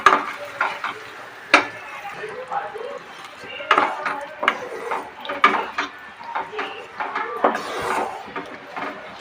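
Yogurt fish curry masala stirred in a pan for Bengali doi katla, with repeated scraping and stirring strokes and a light sizzle, close up and moderately loud, and faint talk in the background.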